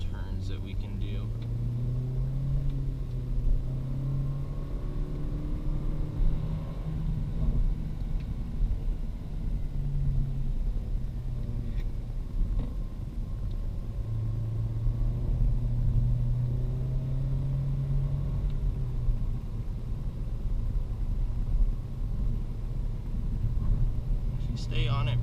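Turbocharged Honda Civic fitted with an AFE performance package accelerating through turns, a moderate engine drone rising and falling in several pulls beneath steady talking from inside the car.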